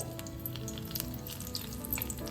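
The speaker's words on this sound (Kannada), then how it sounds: "ಈಗ ಆಯಿಲ್ ಎಲ್ಲ ಬಿಸಿ ಆದಮೇಲೆ ಒಂದೊಂದೇ ಬದನೆಕಾಯಿನ ಈ ಥರ ಆಯಿಲಲ್ಲಿ ಹಾಕ್ಕೊಂಡು" Eggplant slices for bajji frying in hot oil, a steady close sizzle with crackling pops and bubbling throughout, no voices.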